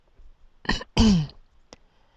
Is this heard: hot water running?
no